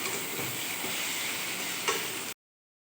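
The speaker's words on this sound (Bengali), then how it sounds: "খিচুড়ির জন্য মশলা ভাজা হচ্ছে" Spices for vegetable khichuri hiss quietly in a pan with a faint, even sizzle, a light tap near the end, then sudden silence.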